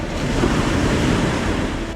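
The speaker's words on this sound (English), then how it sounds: "Soft little waves." Small, soft waves lapping at a shore during remote solo boat camping, a steady close wash of water with wind noise and no talk.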